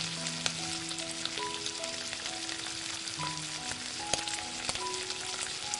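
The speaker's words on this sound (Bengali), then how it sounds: "মাছগুলো তেলের মধ্যে দেবার পর এবার গ্যাসের ফ্লেমটাকে মিডিয়ামে রেখে মাছগুলোকে হালকা লাল করে ভেজে নেব" Marinated tangra fish frying in hot mustard oil over a gas flame, a steady dense sizzle with scattered pops and crackles, close and continuous, with faint tonal hum in the background.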